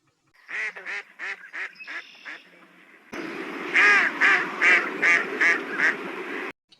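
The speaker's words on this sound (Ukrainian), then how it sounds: "а качечка кричить ось так." A duck quacks in a quick series of loud, nasal calls, pausing briefly before a second, denser burst of quacking over a rougher background.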